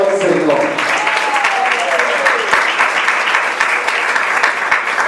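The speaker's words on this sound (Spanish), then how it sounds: "Un fuerte aplauso al Señor." Church congregation applauding loudly and steadily throughout, a dense wash of clapping with voices mixed in and a brief sung or spoken tone at the start.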